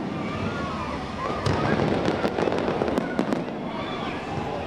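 A large fireworks show set off from a riverside location gives a run of crackling bursts and pops over a steady rumbling wash, with a voice talking over it.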